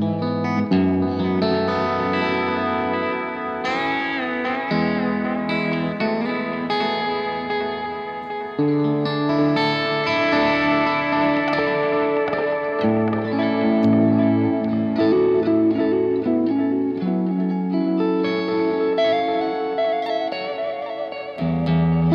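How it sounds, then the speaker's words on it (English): Electric guitar played through a long single-head tape-style delay, a continuous melodic passage of notes and chords with trailing repeats washing behind them, loud and alone without speech. "of course, I have the long single head delay."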